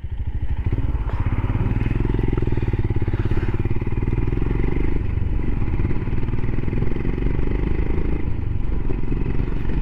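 A Royal Enfield Himalayan motorcycle's exhaust thumps loudly up close while riding, a rapid steady pulse that rises and eases in revs throughout, with no speech heard.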